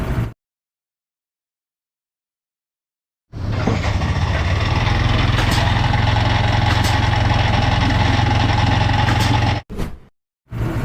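A Yamaha NMAX scooter engine, freshly overhauled, idles steadily for several seconds after a brief silence, a constant mid-pitched hum, then cuts off with short bursts near the end.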